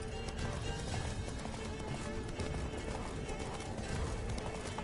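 Roach the horse gallops in The Witcher 3: Wild Hunt, hooves pounding in a fast, steady rhythm close up, with a voice speaking over the running.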